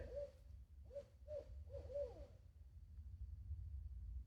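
A barred owl hoots a short series of rhythmic calls at a distance in the woods, about five notes rising and falling before fading to quiet outdoor ambience.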